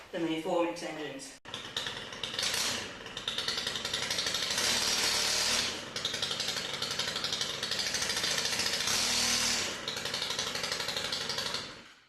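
A Stihl FS94 string trimmer's small engine buzzes with a sharp throttle blip, then holds a loud, high, steady whine with the cutting head spinning fast, dipping briefly and rising again, close by, with someone talking over it at the start.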